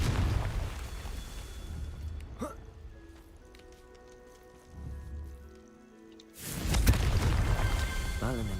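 The Confringo blasting spell explodes in the video game Hogwarts Legacy. A loud, sudden booming blast erupts after a stretch of quieter game ambience, and a rumbling burst also sounds at the start.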